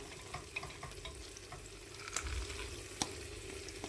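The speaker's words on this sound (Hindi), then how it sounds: "अब हम इसमें मूंग की दाल डालेंगे।" Soaked green moong dal with its husk on goes into a pan of frying masala, giving a soft, continuous sizzle with scattered stirring clicks and one sharper knock, quiet and close with no talk.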